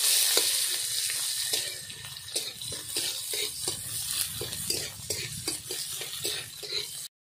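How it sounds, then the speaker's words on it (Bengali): Sliced onion with a dried chilli frying in hot oil in a pan, a steady close sizzle broken by a quick series of spatula stirring scrapes, with no talking. "পেঁয়াজটা ভেজে নেব"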